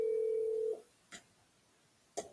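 A steady telephone dial tone runs for about three quarters of a second, then cuts off, followed by two short bursts of dialing tones spaced about a second apart, clear and close.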